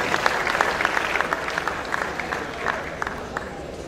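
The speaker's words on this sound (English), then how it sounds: "A round of applause for Professor Faborode" Audience applause for a former vice chancellor at a university public lecture and fellowship award, a dense crackle of clapping throughout with a voice over it.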